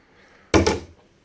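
A refrigerator door in a cruise ship veranda stateroom shuts with a single close, solid thunk and a brief rattle, then quiet.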